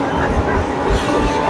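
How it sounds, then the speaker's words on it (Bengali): A train on the Kolkata circular railway near Kidderpore rolls past close by. Its loud, continuous rumble fills the short moment. "এই যে ট্রেন যাচ্ছে, এই ট্রেনটা চলে যাচ্ছে"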